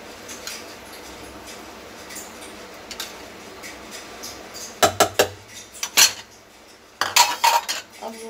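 A spoon scrapes and clinks against a bowl as yogurt is stirred into a mashed black chickpea kebab mixture with spices, quiet at first and then a run of louder, irregular metallic taps.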